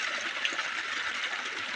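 Water flows steadily after a night of heavy rain, a continuous hissing rush at moderate level with no one speaking.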